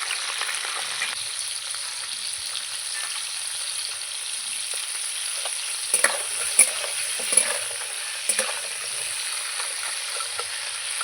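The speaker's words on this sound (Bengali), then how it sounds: "কাঁকড়াগুলো ভালো করে লাল লাল করে কিন্তু ভাজবে সবগুলোই দিয়ে দেবো" Live crabs fry in a pan with a steady, dense sizzle, and several sharp scraping stirs land toward the end. No one speaks.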